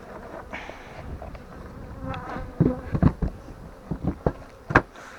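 Honeybees buzz around a beehive swarm in a close, continuous drone, with a few louder thumps and handling noises near the hive toward the end, and no speech.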